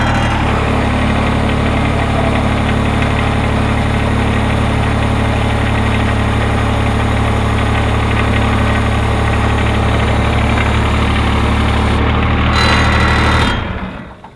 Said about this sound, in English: once you got the tractor running